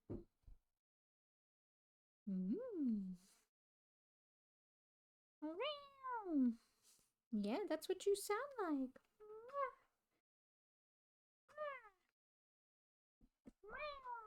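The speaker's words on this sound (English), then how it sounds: "She had a little meow." A cat gives a few soft, short meows spread through the clip, close to the microphone but quiet, alternating with a person talking to it.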